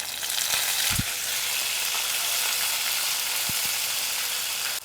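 A steady, close sizzle of dried chilies frying in hot oil, with a couple of faint knocks in the pan and no voices.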